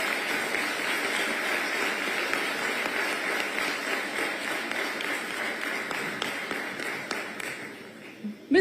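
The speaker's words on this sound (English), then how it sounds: "Audiences, I think she deserves a big round of applause." Steady audience applause at a summit fireside chat in New Delhi, a broad even wash of clapping that holds throughout before a sharp sound at the close.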